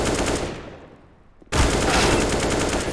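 Automatic AK rifle fire from a Counter-Strike match on the Vertigo map: a loud burst of rapid shots, a brief fading lull, then a second dense sustained burst starting abruptly.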